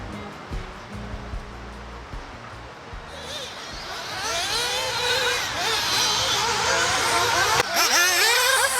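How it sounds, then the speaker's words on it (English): Small remote control cars race around an outdoor track in northern Italy, their high-pitched electric whine sweeping and rising as they pass nearby, loud and continuous over a rumble of background noise. "Somehow we have found ourselves at a remote control car racetrack."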